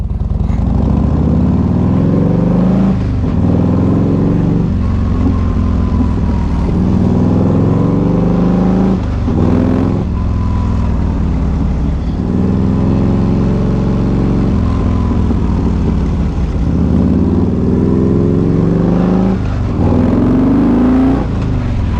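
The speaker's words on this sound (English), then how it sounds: "I really hope the motorcycle sound comes through" A loud engine runs steadily throughout, rising and falling in pitch with repeated revving surges, close by and continuous without any voices.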